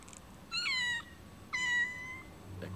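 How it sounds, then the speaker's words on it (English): A cat meows twice in the video game No More Heroes, two clear, fairly close, drawn-out meows about a second apart over a quiet background. "Cat? You frightened me for a second, kitty."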